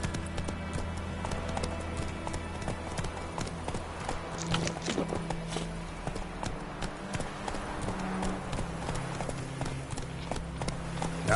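Roach the horse clops along with steady hooves in The Witcher 3, a continuous rhythmic gait heard under game music and ambience.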